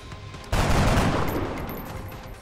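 Gunfire in the video game XCOM Enemy Unknown: a sudden loud burst erupts and continues as a dense rattling volley that slowly fades, with no voices over it.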